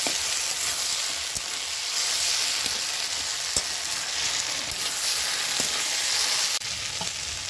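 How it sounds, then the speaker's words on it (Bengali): Prawns fry in a hot pan with ghetkol stalks and potato, a steady loud sizzle broken by occasional sharp clicks and scrapes as the mix is stirred. "এরকম ভাজা ভাজা অবস্থায় তারপরে চিংড়ি মাছগুলো দিয়ে কিছুক্ষণ নাড়িয়ে নামিয়ে দিতে হবে।"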